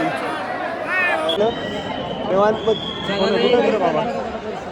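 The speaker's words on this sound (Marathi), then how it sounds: "गर्दी गर्दी" A dense crowd of devotees at Dagdusheth Ganpati darshan in Pune, overlapping chatter and calls filling the space steadily at close range, with nearby voices talking over the murmur.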